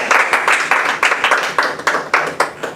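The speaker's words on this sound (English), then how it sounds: "Let's give Jane a round of applause." A small audience claps for a speaker at an educators' summer institute, sparse distinct handclaps in a quick uneven rhythm, close and fairly loud, with no talking over it.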